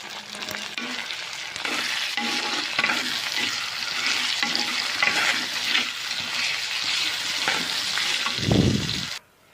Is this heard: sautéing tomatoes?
yes